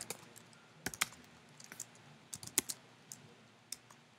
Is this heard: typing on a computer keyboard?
yes